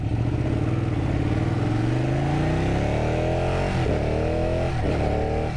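A Ducati 959 Panigale sportbike in race mode accelerates hard with its quick shifter, the engine note climbing steadily and then dipping briefly at two rapid upshifts, loud and close throughout.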